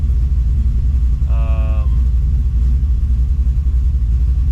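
A 1965 Chevrolet Impala SS engine runs at a steady idle, its loud low rumble continuous throughout with no revving, while a short, faint tonal chirp cuts in briefly near the start.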